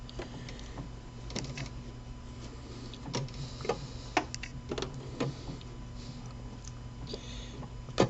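Soft mechanical ticking and clicking as a serger's handwheel is turned forward by hand, irregular taps over a quiet background hum, close and fairly faint, with no talking.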